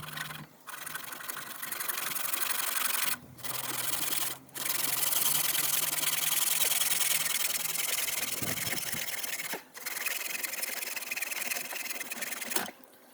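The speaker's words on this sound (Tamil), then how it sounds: "இப்போ தான் இதை கட் பண்ண போகிறேன்." A PVC water pipe is cut with continuous, close, harsh rasping strokes, broken by a few short pauses, with no speech over it.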